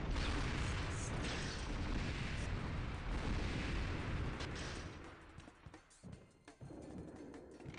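Booming gunfire and explosions rumble through a 1998 first-person shooter with a rocket launcher, a dense, loud barrage that thins into scattered shots near the end.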